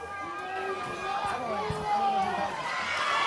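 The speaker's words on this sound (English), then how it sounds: "Billy Litt definitely getting the crowd pumped up here in War, West Virginia today" A pumped-up crowd at an NWA Mountain State professional wrestling show in War, West Virginia, with dense, steady chatter, shouts and cheering from many people, sustained throughout.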